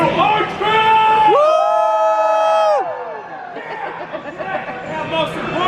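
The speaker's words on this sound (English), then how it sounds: "I want you to make as much noise as you can and let this entire harbor hear you" A crowd at a pirate dinner show roars and whoops loudly, with sustained shouting and high cheering voices rising together, then settling into lively mixed yelling and chatter.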